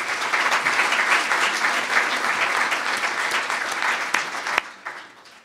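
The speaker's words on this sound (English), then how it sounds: "maybe give them one round of applause" Audience at a Louisville Forum event on school-choice tax credits giving a round of applause, full, sustained clapping from a room of people that stops abruptly near the end, leaving a brief quiet tail.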